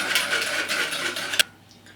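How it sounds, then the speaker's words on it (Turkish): Orange juice, milk and sugar whisked together in a bowl, giving a steady, busy scraping and clattering for about a second and a half that ends with a sharp tap before going quiet. "Bunları şöyle biraz çırpacağım."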